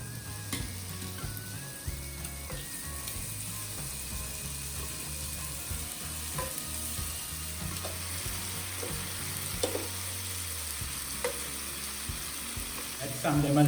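Prawns fry in olive oil in a pan, a steady close sizzle that continues throughout, with occasional light clicks and scrapes from the pan.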